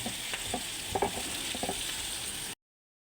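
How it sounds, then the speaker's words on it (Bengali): Mashed pointed gourd bharta with spicy onion being mixed by hand with oil, giving a close, steady wet squelching and stirring texture with a few soft pats, no voices. "এবার আমি ভর্তাটা মাখাই নিচ্ছি"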